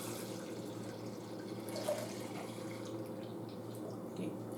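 Hot water poured in while making homemade beer, a soft continuous trickling splash under a faint background hum, fairly quiet and steady.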